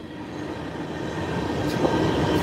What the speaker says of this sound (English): how well you guys can hear me over this fucking train here